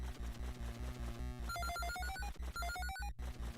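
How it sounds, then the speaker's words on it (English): Bright chiming melodic pickup jingle of collecting a gem in an old video game, a quick run of rising tonal notes over steady looping game music with a thumping beat, no talking. "Isn't that gem sound just pleasant?"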